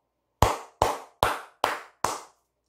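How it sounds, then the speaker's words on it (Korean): Five separate hand claps, close and crisp, evenly spaced about half a second apart, each with a short decaying ring, then silence. "크게 기립박수 치고 가도록 하겠습니다"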